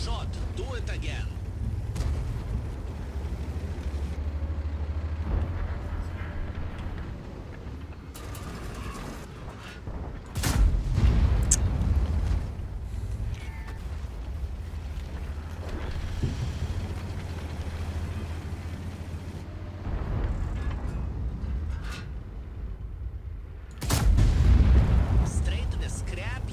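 The main gun of a Ho-Ri 3 tank in a video game fires several heavy booms, each a sudden loud blast with a rumbling tail. Continuous engine rumble and talk fill the gaps between shots.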